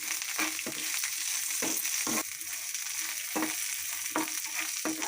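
Green chillies and washed coriander leaves fry in a pan for an amla and coconut chutney, a continuous hiss with repeated scraping strokes of a spatula at an uneven pace, close and fairly soft.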